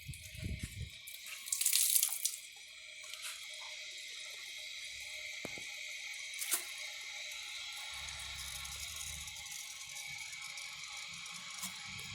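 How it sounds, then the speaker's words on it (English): Water runs and hisses steadily into a tank, a thin continuous trickle with occasional clicks and drips, louder rushing briefly at the start. "they're filling really slowly right now"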